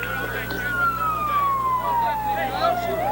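Fire truck and ambulance sirens respond to an auto accident on a nearby expressway, heard from a high school baseball game: a wailing siren tone sweeps slowly downward, moderately distant, over a low steady background rumble.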